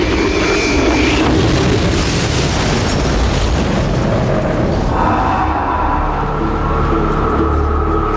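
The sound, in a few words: mid-air collision of two airplanes, documentary reconstruction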